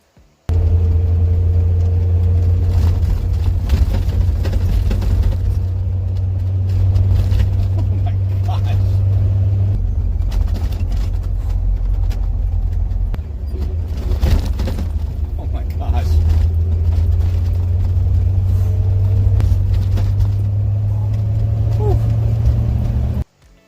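A vintage Corvette rumbles along with a loud, steady low engine drone and road noise throughout, with occasional rattles and knocks from a harsh, creaky ride, while a voice talks over it.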